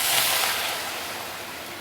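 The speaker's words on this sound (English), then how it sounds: "Now we can actually add in the chicken stock." Chicken stock pours into a hot wok with charred prawns for wet stir-fried noodles, a loud, continuous sizzling hiss that fills the space and eases off gradually, with no voices.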